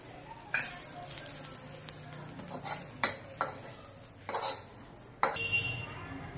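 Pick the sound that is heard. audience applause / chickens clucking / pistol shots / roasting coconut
roasting coconut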